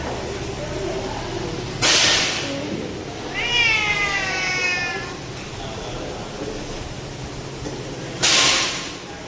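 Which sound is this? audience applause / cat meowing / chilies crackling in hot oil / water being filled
cat meowing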